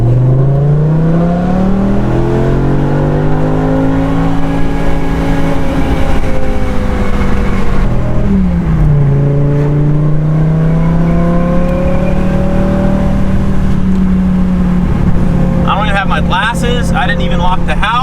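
A BMW E60 M5's V10 engine revs with a misfire, held in drive, its loud rising and falling drone swelling and dropping over about eighteen seconds with a steady rough undertone.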